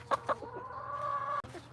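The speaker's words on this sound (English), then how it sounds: "I will leave you with Kramer and his girls and Tio's very loud mouth, and enjoy the chickens." Chickens cluck nearby in a few short bursts, then one hen lets out a drawn-out, sing-song cluck.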